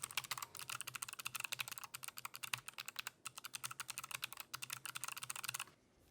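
Rapid clicky typing on a Logitech G915 keyboard, a dense run of sharp, close keystrokes in steady bursts with a brief pause midway, ending in quiet.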